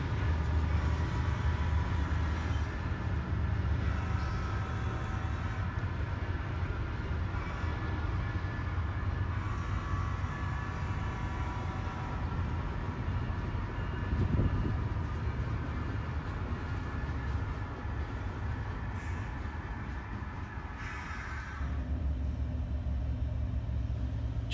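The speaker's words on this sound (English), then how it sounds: "that's industry jargon for basically an empty intermodal train" HO scale model train running on a BNSF-themed layout, a steady rumbling roll of small wheels on track that continues for the whole stretch and eases slightly toward the end.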